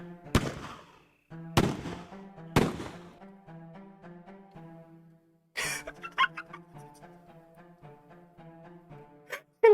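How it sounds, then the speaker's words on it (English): Video game gunshots: three sharp loud bangs in quick succession, each with a short ringing tail over a tonal music bed, then a burst of crackling impacts and scattered smaller pops. "I heard gunshots once more. Several gunshots."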